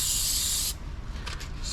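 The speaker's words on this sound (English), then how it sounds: "And we're gonna use some spray adhesive. Spray them on." Spray adhesive hissing from an aerosol can onto cut-out paper letters: one sustained close spray lasting well under a second, then a few shorter faint bursts.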